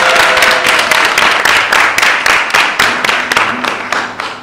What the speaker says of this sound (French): On applaudit pour l'applaudir.